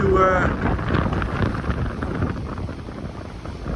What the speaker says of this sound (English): this wind that's playing havoc with the tip of the rod above my head